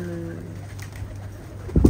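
Pigeons cooing at a rooftop pigeon loft, a low soft throaty coo near the start, followed by a brief louder scuffle or flutter at the end.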